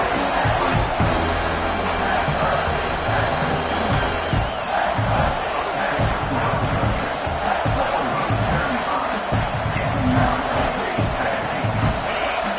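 A stadium crowd roars at an American football game as the defense faces a red zone stand, a continuous loud wall of cheering and yelling that holds steady throughout with no pauses.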